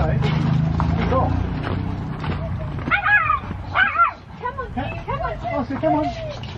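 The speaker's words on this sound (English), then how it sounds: "You're ready to go. Good dog." A dog yips, whimpers and gives short barks in a run of high, rising whines, close by, with people talking and encouraging it over a low background rumble.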